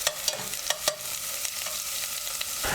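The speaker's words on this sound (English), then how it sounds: "Allow it to saute for a few seconds" Scallion and mashed garlic sauté in a saucepan, a continuous sizzle broken by several sharp clicks of a cooking spoon stirring against the pan.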